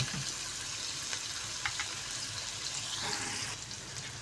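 Chopped onions sizzle and fry steadily in oil in a pan for tinda sabzi, a continuous bright hiss with occasional stirring scrapes and a faint watery clink near the end, close and alone without talk.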